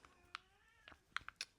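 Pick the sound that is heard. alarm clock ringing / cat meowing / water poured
cat meowing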